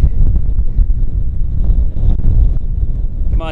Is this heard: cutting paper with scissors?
no